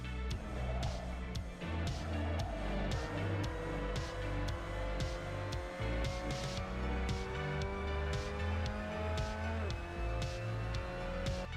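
A Mazda MX-5 Cup car in Assetto Corsa brakes and turns through a 180-degree corner at Oschersleben, its engine note droning with steady harmonics and a gradual pitch fall, loud and continuous with rhythmic pulsing.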